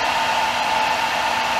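Steady, close whine of a hair dryer blowing to dry airbrushed paint on a fishing bait, constant and unbroken throughout.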